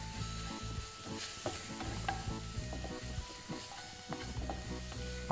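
A turmeric and spice mixture sizzles steadily in a pan while being stirred, with repeated scraping clicks of the spoon over a continuous frying hiss.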